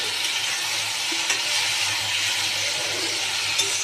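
Taro stolon curry being stirred in a pan, with a steady close sizzle and faint scraping of the spoon against the pan running evenly throughout.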